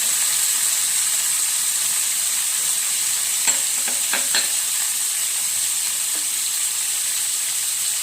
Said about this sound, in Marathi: हे सगळं फ्राय करून घ्यायचं